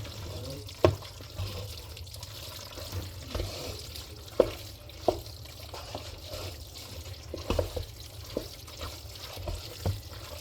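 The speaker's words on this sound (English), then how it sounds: "Stir it up real good. Listen to the sound of that creaminess as you stir." Creamy ground beef mixed with canned soup is stirred in a microwave-cooked dish, giving soft, wet, squelching swirls with occasional light scrapes and clicks of the utensil, fairly quiet and steady.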